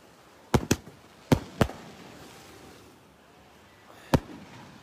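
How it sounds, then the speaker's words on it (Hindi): Fireworks at a Goa celebration give a few scattered, sharp bangs, two quick pairs and then a single later pop, standing out against a low background rumble and hiss. "आज पूरा गोवा पटाखों की गड़गड़ाहट से गूंज रहा है"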